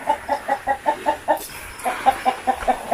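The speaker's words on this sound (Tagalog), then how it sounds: "Mga manok, guys." Chickens clucking in a farmyard, a steady run of short, rhythmic clucks close by with a brief pause partway before the clucking resumes; no talking.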